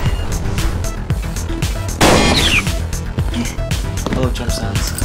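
A rocket launch in the game Ctesiphon fires with a sharp, loud blast and a rising whoosh amid other game sounds, with a voice talking over it.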